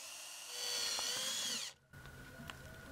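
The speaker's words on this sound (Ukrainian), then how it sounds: "Свердлимо отвори." A small power drill whines at high pitch, drilling holes in a homemade metal fishing jig, revving steadily, then cuts out briefly before faint tapping and handling noises continue nearby.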